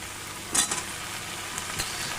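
Shrimp and vegetables sizzle steadily in a hot frying pan, with a couple of sharper scraping stirs partway through and no talking.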